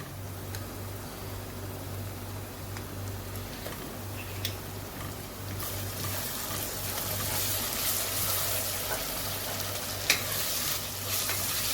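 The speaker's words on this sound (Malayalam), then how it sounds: "ഒരു 10 മിനിറ്റായി ഞാനിവിടെ വഴറ്റിക്കൊണ്ടിരിക്കുന്നു. നല്ല ഹൈ ഫ്ലെയിമിൽ ഇട്ടിട്ടാണ് ഇത് ചെയ്യുന്നത്." Onions sautéing over a high flame with ginger garlic paste in a pan, a steady close sizzle with scraping stirs that grows hissier and brighter toward the end, with no one talking.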